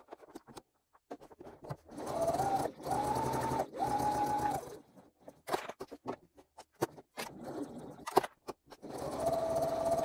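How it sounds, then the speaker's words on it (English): A sewing machine sews a short stitch length along a marked line on a crossbody bag. It runs in several short bursts of rapid stitching, separated by pauses with clicks and handling noises. "you will sew on the line using a shorter stitch length and taking care to hit directly in the corner"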